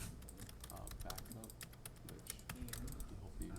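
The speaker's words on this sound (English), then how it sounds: "I'm going to enter my password because I'm doing something with admin privileges" Someone types a password on a computer keyboard. The rapid, irregular key clicks sound quiet and close over a faint background hum.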